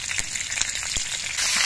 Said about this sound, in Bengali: কাঁচা লঙ্কা আর জিরেটা ভাজা হয়ে গেছে